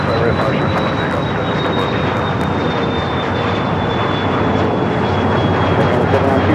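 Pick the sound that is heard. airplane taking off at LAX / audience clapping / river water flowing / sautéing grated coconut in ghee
airplane taking off at LAX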